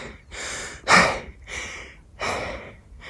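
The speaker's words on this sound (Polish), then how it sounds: "Jest tylko wasze tętno." A hiker climbing alone in the Tatra mountains breathes heavily, with three loud, close breath bursts: a strong gasp near the middle and two longer exhalations around it.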